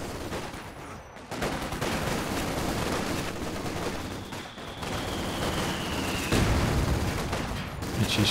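High-explosive artillery shells and small-arms fire in Company of Heroes 2 make a continuous rumbling battle din of overlapping shots and blasts, with a heavier impact toward the end.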